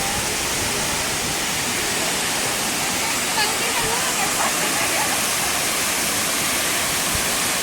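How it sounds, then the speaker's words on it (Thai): Khlong Lan waterfall in Kamphaeng Phet, Thailand, pours down in a steady, dense rushing roar, close and loud, with someone speaking over it. "ก็เดี๋ยวให้ดูลงไปข้างล่างนะครับ น้ำก็จะไหลลงไปนะครับ"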